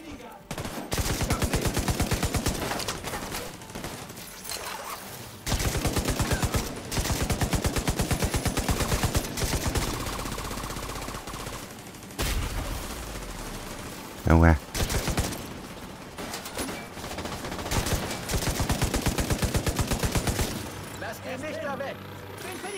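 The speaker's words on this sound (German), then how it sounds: "Da ist ein Geschütz!" A gun turret in The Division 2 fires loud, close bursts of rapid automatic fire separated by short pauses. Heavy engine-like rumble and shouting voices come in between the volleys.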